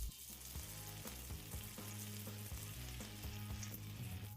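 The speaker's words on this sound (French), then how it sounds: "Nous allons utiliser cela pour griller les pains." Brioche burger buns toasting in bone marrow butter on a flat griddle next to smash burgers, a loud, continuous close sizzle with faint scraping and crackle throughout, no talking.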